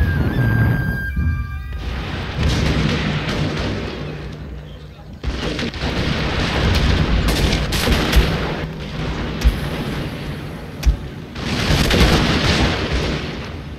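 Battle in the video game Shogun 2, Joseon against Ming China, with gunfire and artillery booms rolling in a dense, continuous clatter of sharp shots and heavier thumps, with voices shouting over the fighting.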